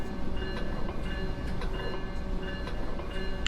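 A passenger train running on the Peninsula Corridor in the Train Simulator 2017 video game, a steady loud rumble of the rolling train with faint metallic clicks, heard alone without talk.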